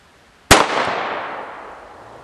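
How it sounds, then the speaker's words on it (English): A Dynatec BFIG airsoft grenade, dropped from about six feet, bursts in one sharp, loud bang that tails off into a long, fading hiss. "dropping it from roughly 6 feet, which is a little less than 3 meters, and we should get an explosion"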